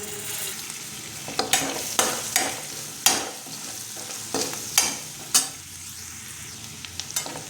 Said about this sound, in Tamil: லேசாக எண்ணெயில் வதங்கினதும்